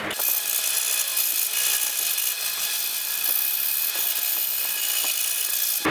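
Steady, continuous scraping of sandpaper on the bottom edge of a pancake welding hood, sanding it at a bevel, close up and even in intensity throughout, with no voices.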